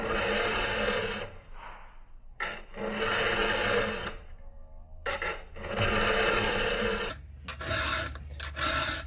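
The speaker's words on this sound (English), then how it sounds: "you're filing so many strokes" A hand file sharpening a chainsaw chain, with long, loud, close rasping strokes repeated in steady bursts separated by short pauses, and no talking.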